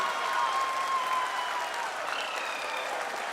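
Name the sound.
audience applauding the Chandrayaan lander touchdown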